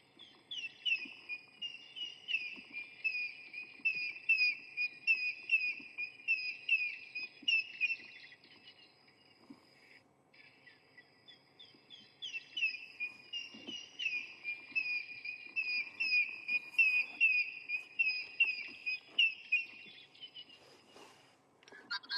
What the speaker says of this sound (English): You would have heard the one when I switched it on, the African grey hornbill